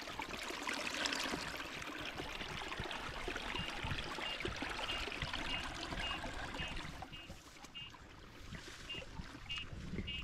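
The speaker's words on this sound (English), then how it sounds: "Got a fair bit flowing through here now." Water streams steadily into a full farm dam or pond, a continuous rushing flow heard up close with a faint rhythmic squeak in the background and no talking.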